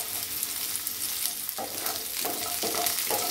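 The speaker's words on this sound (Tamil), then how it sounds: "ஒரு கப் சின்ன வெங்காயத்தை நம்ம வந்து வதக்கிக்கலாம்" Small onions and garlic sautéing in oil for a coconut-free chutney, a steady close sizzle with occasional stirring scrapes and clinks of a spoon against the pan.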